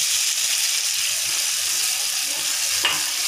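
Water is added to hot chole masala cooking in a pan, giving a loud, continuous sizzling hiss that holds steady throughout, with no talk.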